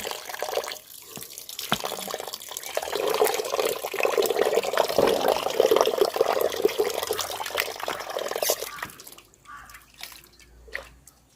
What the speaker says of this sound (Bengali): মাংসটা ধুয়ে নিতেছি সুন্দর করে